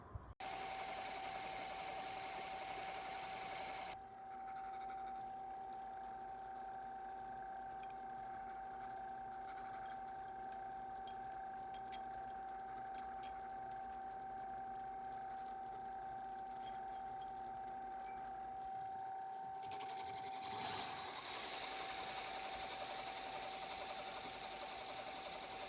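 A replica ancient Egyptian drill bores into granite, making a faint, steady mechanical whirring hum for about 25 seconds that thins partway through and roughens again near the end.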